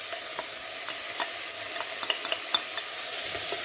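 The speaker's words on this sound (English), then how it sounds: "And we'll give that a quick stir." Spring onions, mushrooms and mixed vegetables fry in a pan while being stirred, giving a steady close sizzle broken by soft scraping strokes and light clicks of the utensil, with no talk.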